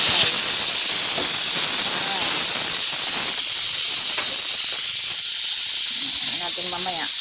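A steady, bubbling hiss of broth boiling hard in a pot, constant and close throughout.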